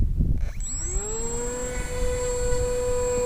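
A small brushless model-plane motor on a Flybear Cessna 182 520mm running on 2S power spins up fast into a high, steady whine and holds at full throttle, fairly close and loud.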